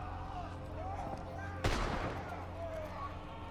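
A single sharp gunshot strikes a character in a video game, bursting out loudly over a steady bed of game sound and music before fading back.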